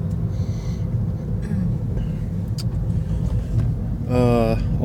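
A car drives through a typhoon-damaged town with downed power lines and bent flagpoles, a steady road and engine rumble filling the clip, with brief higher chirps and a tonal whine near the end.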